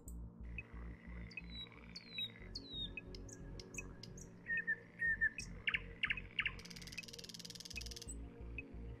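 Nightingale song from the Listening puzzle in the game Keep Talking and Nobody Explodes, a faint run of chirps, trills and whistles over a steady low throbbing loop, ending in a buzzy burst.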